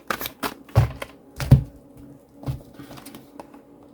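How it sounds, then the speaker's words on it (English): Tarot cards being shuffled by hand, a few soft riffling bursts and slaps spaced about half a second apart, close and fairly quiet with no talking. "And 1 more shuffle, the final shuffle."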